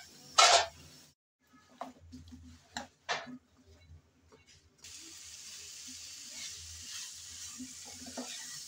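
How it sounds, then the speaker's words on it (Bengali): Radish pieces stirred and fried in oil with spices in a pan for a tilapia and radish curry, with scraping stirs and a soft steady sizzle building in the second half, with no talk. "এখন আমি মূলাগুলো দিয়ে নেড়েচেড়ে ভালো করে কষিয়ে নেব"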